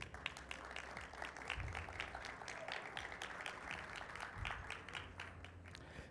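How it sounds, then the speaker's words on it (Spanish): Audience clapping at a public talk, a steady wash of moderate applause sustained throughout with a few low thumps. "Un fuerte aplauso."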